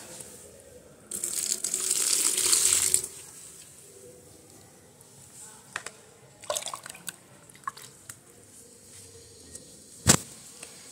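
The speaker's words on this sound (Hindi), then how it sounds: "फिर मैंने सोचा ऐसे पानी डाल के" Water is poured onto chilli plants that were just given fertiliser, making a close splashing rush for about two seconds, then quieter scattered drips and small splashes, ending with a sharp knock.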